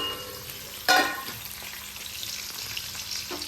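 Curry of potatoes and onions with salt, chili, turmeric and mixed spices frying in a pan, a steady sizzle with a sharp burst of crackling as something is stirred or added partway through; no talking.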